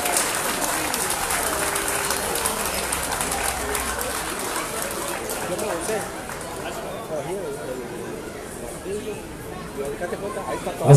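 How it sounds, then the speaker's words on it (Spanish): Audience applause at a stage show of the VI National Festival of Cimarronas in Palmares, 2019, a steady broadband clapping wash lasting throughout, with crowd chatter and a voice mixed in underneath. "démeles un fuerte aplauso a ellos como se lo merecen"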